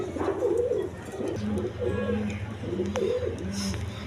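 Low, rolling coos from pigeons at a seller's stall of quality breeding pairs, several repeated calls in close succession over a constant background hum, with no talking.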